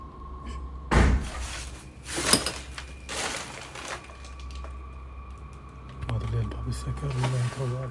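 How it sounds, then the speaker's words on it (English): A door opens, banging and clattering loudly, followed by more knocks and rattling, then a low rumbling noise in a quiet room. "He opens a door and more chaos ensues."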